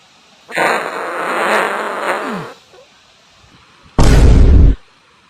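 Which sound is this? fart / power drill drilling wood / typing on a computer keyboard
fart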